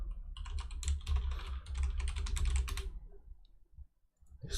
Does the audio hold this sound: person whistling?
no